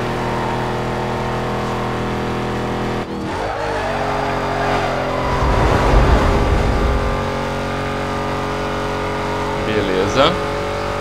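A Chevette fitted with a Mustang engine races in Need for Speed Most Wanted, a loud sustained engine whine with shifting pitch, a brief gear change, tire noise and a burst of acceleration mid-run.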